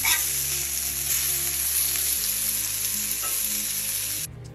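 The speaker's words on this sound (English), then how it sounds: "The trick is you're gonna season your burger patties on one side while the other side is cooking." Bison burger patties sizzle loudly and steadily in a hot grill pan, a dense close-up hiss that holds throughout before cutting off abruptly near the end.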